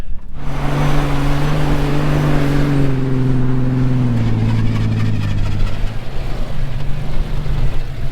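An off-road vehicle drives away in a loud, close engine roar that revs and drops in pitch as it pulls off, with rumbling, tire noise and no voices.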